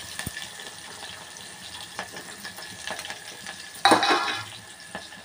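Onions, green chilies and cumin frying in a pan give a soft, steady sizzle with a few light stirring clicks, then a louder burst of crackling near the end as the onions go in.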